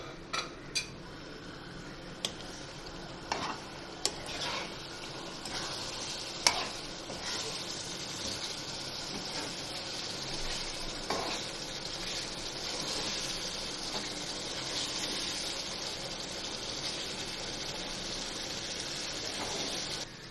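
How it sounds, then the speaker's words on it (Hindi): Masala for chicken aloo biryani frying in a pan, a continuous low sizzle with repeated sharp clinks and scrapes of a spoon stirring against the metal. "अब हम इसको थोड़ा सा भूनेंगे।"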